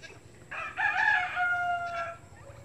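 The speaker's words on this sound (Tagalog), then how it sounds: "Ayan po yung mga alaga kong manok oh." A rooster crows once, a long bright call rising and trailing off, with faint background hum and no talking.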